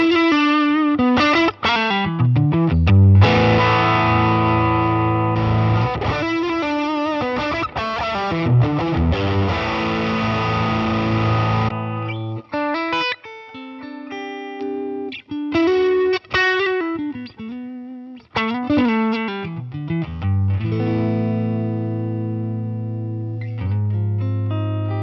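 Electric guitar run through a Line 6 Helix modeler, with distorted, chorus-laden and heavily effected tones, sustained chords and melodic lines changing texture across the passage, loud and continuous with brief pauses, no talking.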